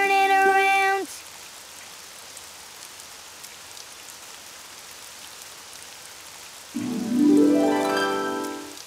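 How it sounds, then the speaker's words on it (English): Soft, steady rain patters on a surface, with tonal musical swells briefly over it at the start and again near the end. "Oh, it's raining outside."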